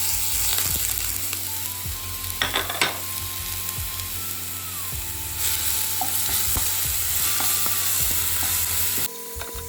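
Mustard seeds and dried chillies spluttering in a small amount of hot oil, with a dense close sizzle, sharp popping crackles and brief metallic scraping clicks, with no voices.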